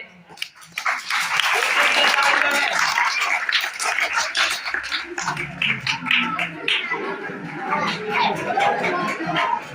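Scattered audience clapping at a high school magic show follows a trick, uneven and fairly close, mixed with crowd chatter and voices talking over it.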